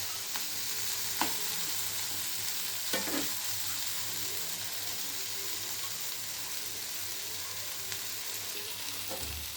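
Steady sizzling from tamarind cooking in a pan on the stove, with occasional stirring scrapes, continuous and close.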